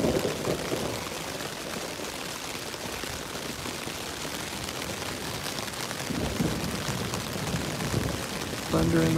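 Heavy rain pours onto a tent during a thunderstorm, a dense, continuous close patter and hiss that fills the whole stretch, with brief muffled noises near the start and end.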